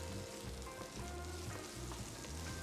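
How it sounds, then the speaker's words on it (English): Shallots sauté in a pan for a chicken Milanese dish, giving a steady, faint close sizzle with a soft crackle and no speech. "saute our shallots just for a little bit, not so long"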